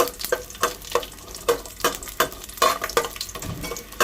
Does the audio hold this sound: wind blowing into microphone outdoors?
no